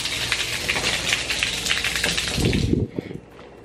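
Water gushes loudly into a hotel room jacuzzi at a luxury hotel in Bohol, a close, dense rushing flow that cuts off abruptly near the end, leaving a quieter room tone.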